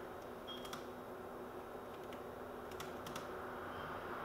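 Code being typed on a computer keyboard, faint scattered key clicks in small bursts over a quiet, steady background hum.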